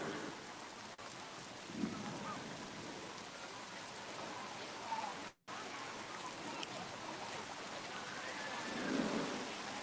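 Steady rain falls heavily at Magic Kingdom in Florida, a continuous wash of hiss with faint low rumbles of distant thunder rising near the end, with no speech.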